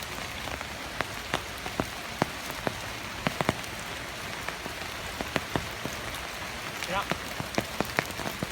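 Rain falls in a Korean forest, a dense steady patter on leaves and ground broken by sharp, scattered drips landing close by.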